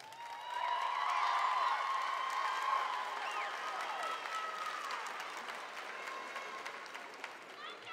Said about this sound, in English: Give our Academy students a round of applause, please.